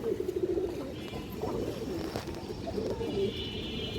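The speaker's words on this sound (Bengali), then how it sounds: "অনেক ভালো একটা মাদি কবুতর" Domestic pigeons kept for sale coo close by in low, throaty, repeated bursts over a soft background bustle.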